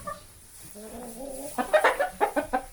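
Chickens cluck close by, a drawn-out murmuring call followed by a quick run of short, sharp clucks.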